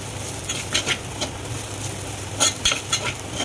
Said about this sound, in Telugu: కొంచెం పచ్చివాసన పోయేదాకా వేయించుకోవాలండి ఇది